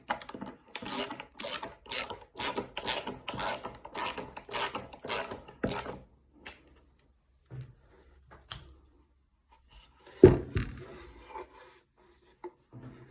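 A screw is driven into a wooden nesting box, making a close run of rhythmic ratcheting, grinding turns for several seconds, then quiet handling and a single loud knock.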